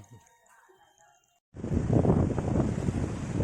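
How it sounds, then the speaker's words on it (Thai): Strong wind and heavy waves at Khung Krabaen Bay burst in after a near-silent start, then a loud, close, steady roar of gusts and surf fills the rest. "คลื่นแรงมาก อ่าวคุ้งกระเบน"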